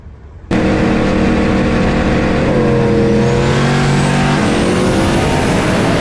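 S550 Mustangs drag racing, a blower car against a huge single-turbo car, engines bursting in abruptly and loud, roaring at full throttle with audible shifts and a rising whine.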